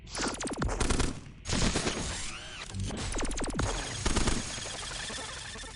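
Dense bursts of rapid gunfire and impacts from the robot-combat game Cogmind, with repeated volleys and crashes filling the whole stretch, loud and continuous with no speech.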